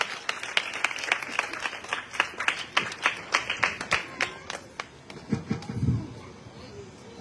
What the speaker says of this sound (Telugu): అందరూ గట్టిగా చప్పట్లు కొడుతూ దేవుని యొక్క సేవకులు ఆహ్వానించుకున్నాం